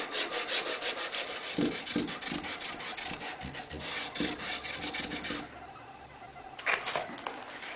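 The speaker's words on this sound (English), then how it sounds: "So apply the black compound to one side." Black abrasive compound is crayoned onto a leather strop by hand, producing close, fairly quiet rhythmic rubbing strokes in quick succession, with a brief pause near the end before a few more strokes.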